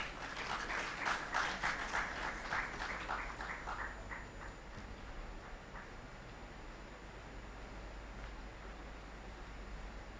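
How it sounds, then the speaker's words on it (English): An audience at a youth consultation event at IIM Raipur applauds in a dense patter of claps that fades out after about four seconds. The clapping is fairly faint and sits over a steady background hiss. "Let's have a huge round of applause"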